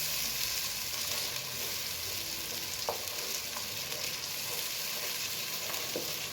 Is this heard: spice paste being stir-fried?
yes